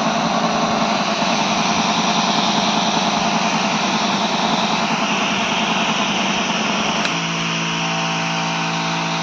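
A motorised backpack crop sprayer pump with single and double motor options roars while fogging in a field, a loud dense steady engine-like blast that shifts to a smoother, steadier drone partway through.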